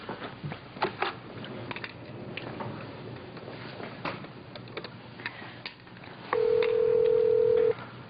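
A telephone is dialed at home in 1989 with a series of clicking, mechanical dial sounds, followed by a loud steady tone lasting over a second near the end.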